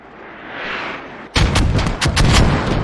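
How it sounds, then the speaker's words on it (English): Mortar fire in a competitive multiplayer match, a rising incoming whoosh followed by a cluster of heavy, booming blasts with sharp cracks, loud and close, several impacts in quick succession. "This is their mortars."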